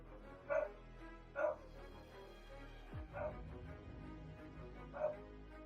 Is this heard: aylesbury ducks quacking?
no